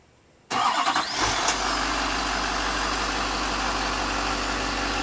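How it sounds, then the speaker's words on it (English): A 2009 Chevrolet Silverado 3500HD LT with the Duramax diesel fires up by remote start after a moment of quiet, cranking briefly before settling into a steady, close, loud idle rumble. "It does have a remote start activated right here."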